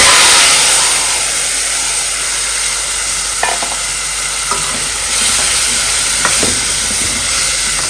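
Food sizzles steadily in a hot pan on a home stove, a loud continuous hiss with a few sharp crackles and pops standing out near the middle.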